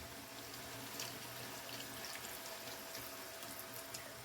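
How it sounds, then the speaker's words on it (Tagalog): Water pours steadily from a tap into a pot of beef caldereta, a soft continuous splashing stream heard close and alone for a few seconds. "magdadagdag na rin tayo ng tubig."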